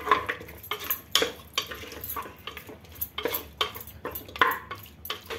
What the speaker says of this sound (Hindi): इसको अच्छे से मिक्स कर लेंगे।